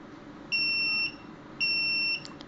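Two long electronic buzzer beeps from a radio-controlled car's intermittent overload warning, each about half a second, separated by a short pause, loud and close over a faint background hiss.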